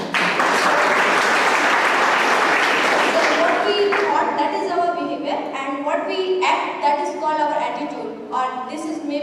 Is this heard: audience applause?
yes